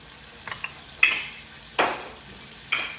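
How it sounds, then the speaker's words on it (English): Beef steaks browning in olive oil in a pan, with several bursts of sizzling and frying as the meat hits the hot oil, each spitting flare fading into a quieter crackle, close and fairly loud. "a tablespoon of olive oil. So that's how we're going to brown them."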